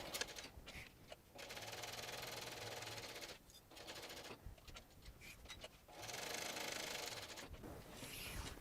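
A sewing machine basts the edge of a sling bag, whirring in several short runs of a few seconds each, separated by brief pauses, close and fairly quiet.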